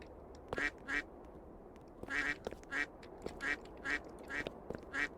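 Ducks quack repeatedly in a Roblox bird obby game, paired nasal quacks coming in a steady rhythm, clear and close with no talk.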